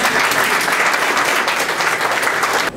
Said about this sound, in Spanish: Sus palmas, por favor.